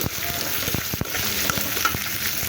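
Onion lightly frying in a pan of oil left over from frying fish, a close, steady sizzle with brief stirring scrapes and taps.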